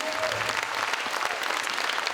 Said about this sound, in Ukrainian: Я хочу, чтобы вы всех абсолютно искупали в овациях